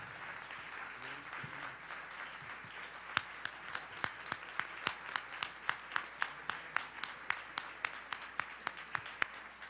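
Applause from an audience at a science talk in a venue in Colombia, a steady wash of many hands with sharper individual claps standing out near the mic, fairly faint and continuing throughout.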